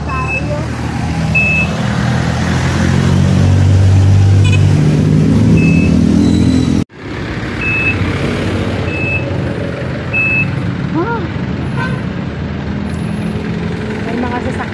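Cars and trucks roar past on a road during a crossing on foot, a steady close traffic wash with a reversing beep repeating and a brief cut midway; people talk now and then over the din.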